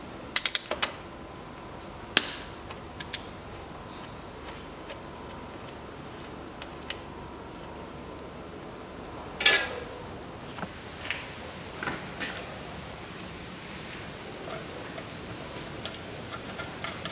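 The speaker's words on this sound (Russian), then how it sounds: "откручиваю пока поддон вариатора и заменю нижний фильтр" A ratchet clicks in faint, sparse bursts while it undoes the 10 mm oil pan bolts on the CVT transmission of a 2008 Nissan Qashqai 2.0 4WD. Light metallic ticks and clanks come and go against a quiet workshop background, with no talking.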